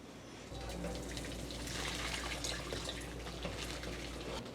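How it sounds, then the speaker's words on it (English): Water from cooked noodles is dumped out into a sink, making a steady rushing pour that runs for several seconds without a break, with no talking. "I'm gonna dump the water out."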